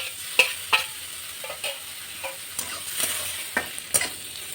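Chopped onion, chilli and ginger sizzle softly in a hot pan, broken by a series of sharp scraping stirs at irregular intervals, with no one talking.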